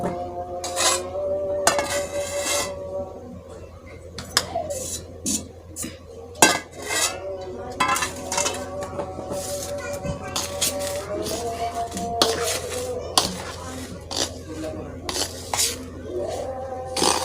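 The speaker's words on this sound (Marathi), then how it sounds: "ते तूप केलेलं आहे, ते ह्या पिठात ओतत आहे। गरम आहे, सांभाळून ढवळून घ्यायचं।" Hot ghee stirred into moong dal flour for laddoos, a spoon scraping and clinking against a metal pan in uneven bursts, close and fairly soft, with a faint voice in the background.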